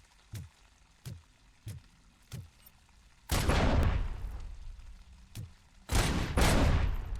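Turret gunfire in the Robocop: Rogue City shooter game: a handful of evenly spaced single shots, then two loud sustained bursts of rapid fire, close and prominent with no talk.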